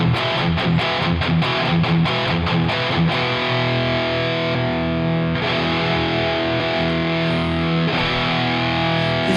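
Electric guitar played through a Wampler Brent Mason ReWired overdrive/distortion pedal: a few quick strummed chord hits, then thick, driven chords ringing out loud and sustained with a big, saturated tone.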